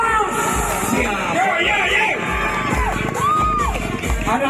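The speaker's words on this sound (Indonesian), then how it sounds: "Tepuk tangan saudara" A loud crowd at a motor racing championship awards ceremony on a circuit cheers, whoops and shouts for the overall champion, voices overlapping in a dense roar, with a strong rhythmic low thump pulsing underneath throughout.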